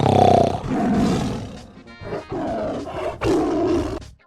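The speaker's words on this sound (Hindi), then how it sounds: "शेर गुस्से से दहाड़ता हुआ बोला" An angry lion roaring loudly and close, several long rumbling roars one after another with short breaks between them.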